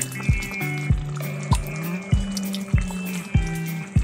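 Thick pangas fish curry simmering in a covered pot, with heavy bubbles plopping in a steady rhythm roughly every half second over a low background hum.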